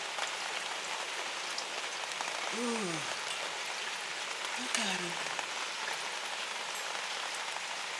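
Steady rain pours down outdoors in a broad continuous hiss, with a couple of short bird-like calls and a voice speaking briefly over it.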